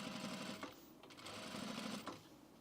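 A sewing machine stitches fabric for men's pants, running steadily and close for the whole stretch, its motor hum pulsing with a brief slowdown and restart partway through.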